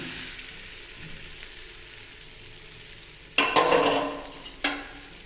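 Spoon stirring fried lentils into mango pickle for pulihara rice, with a faint low sizzle at first, then a few sharp scraping, mixing strokes in the second half.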